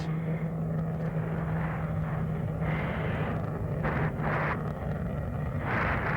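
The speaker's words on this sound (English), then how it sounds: "accelerate the Super Tomcat to a speed closely approaching the speed of sound" A US Navy F-14D Super Tomcat jet roars past at an air show demonstration, a loud, steady, broadband engine rumble with a droning tonal hum that holds throughout and shifts slightly as the aircraft passes.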